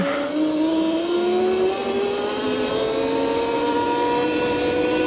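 An AnyLand Rev Pro electric wheelie bike in mode 1 whines at speed with a steady motor tone that climbs slowly in pitch, mixed with wind and road rush close to the rider.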